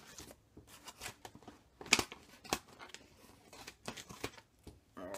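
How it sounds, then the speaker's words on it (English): Scissors cut open the top of a package, producing close, quiet snips and crinkling tears of the packaging at an irregular rhythm. "Cut the top off here."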